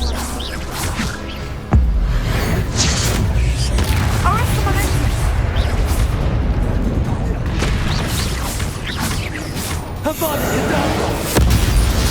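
An Expulso blasting spell explodes in the video game Hogwarts Legacy with a sudden loud boom near the start, followed by sustained rumbling combat noise, crashes and a voice talking over it.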